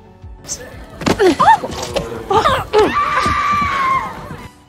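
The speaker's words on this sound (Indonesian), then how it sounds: "mereka pun dikagetkan oleh teriakan seorang bondon yang keluar dari kebun jagung dengan tercucuk panah" A woman screams in a horror film scene as she comes out of a cornfield struck by an arrow. Several sharp, wavering cries break out in bursts and end in one long, sustained shriek.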